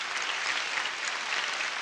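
A crowd claps steadily in a dense, even wash of applause that holds at the same level throughout.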